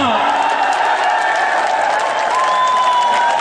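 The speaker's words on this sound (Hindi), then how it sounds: "और तालियां आपने पहले ही बजा दी" Crowd at a political rally breaks into loud, sustained applause mixed with cheering, a dense wall of clapping filling the whole stretch.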